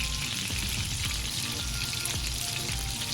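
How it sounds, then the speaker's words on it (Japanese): Lotus root dumplings pan-frying over medium heat: a dense, continuous sizzle and crackle of oil with scattered pops, loud and close with no talking. "中火で3分焼いて焼き色がついたら裏返します"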